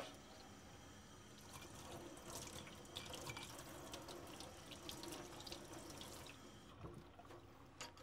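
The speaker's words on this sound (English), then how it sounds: "Rinse again." Tap water runs into a sink while PPE from an IDC Snap System is rinsed under it. The flow is faint and steady with light splashing and drips and no talk.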